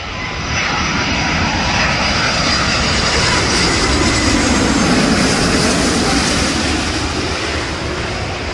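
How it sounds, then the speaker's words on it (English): An Air Canada Airbus A330 jet arriving at LAX from Montreal makes a loud, sustained engine roar that stays steady and close throughout, with no voices. "Arriving from Montreal, Air Canada A330, 769 heavy."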